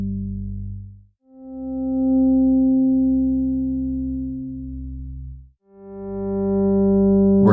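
A steady guided-breathing pacing tone: smooth sustained synth pitches that swell and fade in long phrases, shifting pitch between breaths, with brief gaps between tones and no talking.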